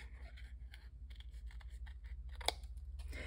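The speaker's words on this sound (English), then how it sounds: "around the pieces that I have that are from the stencil and just cut." Scissors snip through paper from junk mail envelopes during fussy cutting around stenciled pieces, a run of rapid close crisp blade clicks with one sharper snap near the end, no voices.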